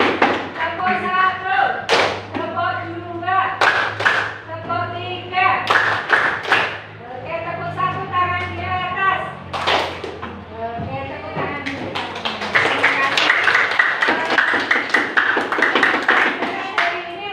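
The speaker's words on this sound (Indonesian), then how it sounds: "Tepuk satu, tepuk dua, tepuk tiga." A class claps along in a counting clap chant, with rhythmic bursts of hand claps in groups that grow denser toward the end, under a teacher's voice and children speaking.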